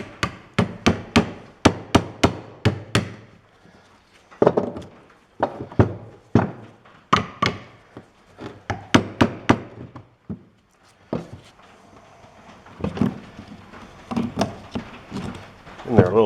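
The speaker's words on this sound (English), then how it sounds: "Let's start by knocking the old pads out." Old brake pads on a Chevy Silverado are knocked out of the caliper bracket with repeated sharp metallic taps in quick bursts and pauses, close by, with short breaks between strings of blows.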